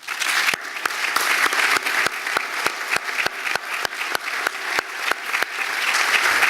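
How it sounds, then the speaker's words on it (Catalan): Audience applause at a civic ceremony in Reus marking a city health pact, steady and dense with a regular pulse of sharp rhythmic claps standing out over the wash, loud and sustained throughout without talk. "els demanaria un aplaudiment per ells"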